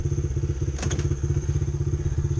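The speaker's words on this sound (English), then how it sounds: "Started up fine, idle's fine, revs out pretty clean too" A Honda XR70 motorcycle engine fitted with an 88cc big bore kit idles with a fast, steady putter close by, interrupted briefly by a clattering mechanical thump.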